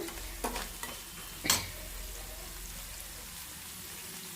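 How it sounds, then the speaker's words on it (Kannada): Quiet sizzling of onions in a pan with a few sharp scraping stirs, one louder stroke midway, then a soft steady fry. "ಚೆನ್ನಾಗಿ ಫ್ರೈ ಮಾಡ್ಕೊಳ್ಳೋಣ ಈರುಳ್ಳಿಗೆ ಒಗ್ಗರಣೆ ಹಾಕಿದಾಗ"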